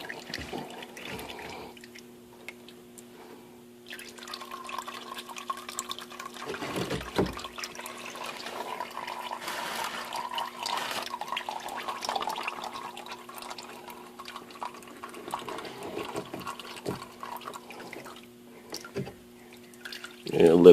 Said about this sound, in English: I have to make sure that it's ready to catch the oil because it's going to start dripping, and it does right away.